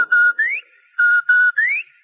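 A clear, loud whistle is blown as a signal in a coded pattern: a short steady blast, then a rising one, a pause, two steady blasts and another rising blast, with no talking.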